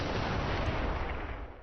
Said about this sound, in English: so they're starting to fire on us.